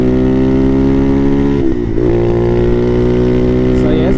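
A Bashan Motomax 250 motorcycle fitted with a Nibbi PE30mm carburetor revs steadily up close, its engine note holding loud with a brief dip and recovery partway through, short of wide open throttle.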